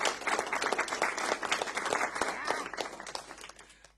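Round of applause during a home bank holiday breakfast livestream sofa show, dense steady clapping from several people filling the whole stretch, with faint voices mixed in before it thins out at the end.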